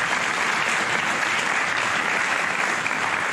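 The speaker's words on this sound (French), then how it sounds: "On les applaudit ici." Steady, dense applause from an audience at a New Year's wishes ceremony, continuous and fairly loud with no break for its whole length.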